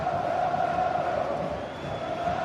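A stadium crowd in a football video game roars and cheers in a sustained, loud wash of noise that swells and dips slightly, with no clear voices on top.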